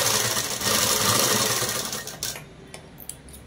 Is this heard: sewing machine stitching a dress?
yes